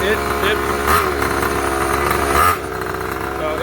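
A gas engine swapped into a Razor MX350 dirt bike, converted from electric, idles close by at slightly raised revs with a steady buzzing drone and a brief blip midway. A voice talks over it.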